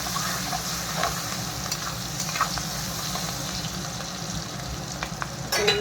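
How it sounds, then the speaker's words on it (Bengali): Onions fry in oil for a thin chicken curry, a continuous close sizzle with occasional stirring scrapes and light clicks, a louder burst right at the end. "তেলের উপরে পেঁয়াজগুলো লাল লাল করে ভেজে নিই।"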